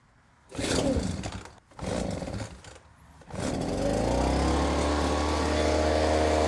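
A Ryobi backpack blower's small gas engine sputters through two short pull-start bursts, then catches and settles into a steady, loud, buzzing idle close by.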